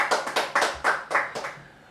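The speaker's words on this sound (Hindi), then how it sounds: "बहुत जोरदार तालियां।" Enthusiastic applause from a group, with a burst of clapping that swells in several waves before fading out.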